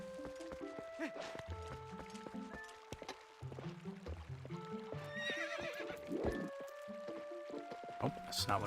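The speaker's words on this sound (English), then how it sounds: "Let me on my horse." A horse whinnies and hooves clip-clop in The Legend of Zelda: Twilight Princess, the neigh rising mid-clip over layered game music and ambient effects, with a voice heard alongside.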